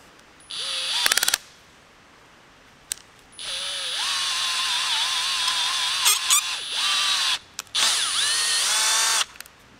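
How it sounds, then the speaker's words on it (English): A power drill boring out a broken thermostat bolt on a 22RE engine through a template, whining in several bursts with a long steady stretch in the middle and shifting pitch as it bites, separated by short pauses. "Put that template on there, got it drilled out nice and straight."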